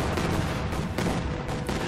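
Dense gunfire and explosive bursts hit vehicles in a Company of Heroes 2 multiplayer battle, a steady, noisy barrage of rapid shots lasting the full two seconds.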